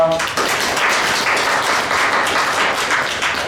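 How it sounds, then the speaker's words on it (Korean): A church congregation claps together at a Sunday worship service, a steady dense wash of applause filling the room for several seconds. "우리 하나님께 영광의 박수 올립니다"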